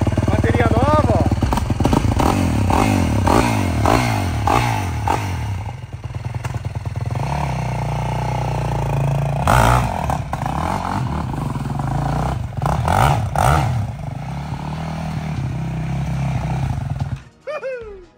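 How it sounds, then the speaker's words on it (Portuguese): A small 125 cc quad bike engine idles and revs close by, its rough low rumble rising and falling, with people talking over it throughout. "esse aqui é o meu quadriciclo"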